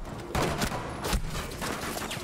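Pistol fire in the online shooter Rainbow Six Siege, heard as a few sharp, loud shots in quick succession amid chaotic in-game combat noise, with no voices over it.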